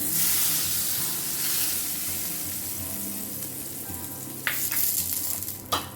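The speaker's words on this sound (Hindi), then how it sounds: "तो यहाँ पे तड़का रेडी है। ओके, गैस की फ्लेम को ऑफ करते हैं, ऊपर डाल देते हैं।" Steady, close sizzling and frying hiss as hot oil tempering is poured over mango sasav, with a couple of sharper crackling bursts near the end and no voices.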